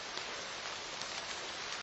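Steady rain falls during a village fair in an animated Hindi story, a dense even hiss that holds for the whole stretch and then cuts off abruptly.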